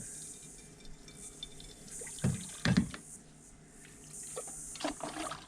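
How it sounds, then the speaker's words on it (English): Water poured into a cooking pot at an outdoor bush camp kitchen, a few short splashy gurgles standing out over steady background hiss. "And I'll immediately put a bit of water in this."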